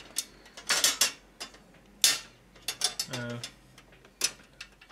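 A 3.5 inch hard drive tray snaps and clicks out of an AeroCool Mechatron computer case, with several sharp plastic-and-metal clacks and a brief rattling slide.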